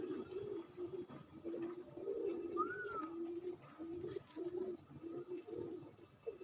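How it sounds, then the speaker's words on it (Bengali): Pigeons at a pigeon farm coo in repeated low, throaty phrases, several birds overlapping at moderate distance. A brief higher chirp breaks in once. "দেখেন, সবই আমাদের এই খামারের কবুতর।"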